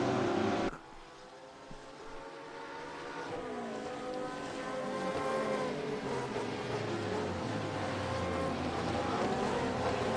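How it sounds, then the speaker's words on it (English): Porsche GT3 race cars battling at the Daytona road course in a racing video game, engines droning and rising steadily in pitch as they accelerate, a continuous close whine after a sharp start. "A couple of Porsches there battling each other."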